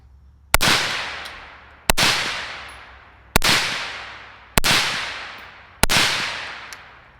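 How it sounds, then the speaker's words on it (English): Five rifle shots fired through a Smokey suppressor at an outdoor range, each a sharp loud crack with a long decaying tail, spaced about one and a half seconds apart. "We're going to put 5 rounds down range, then we'll put a couple rounds right here into the berm"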